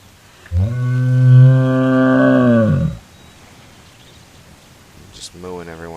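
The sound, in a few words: mooing call in the video game The Endless Forest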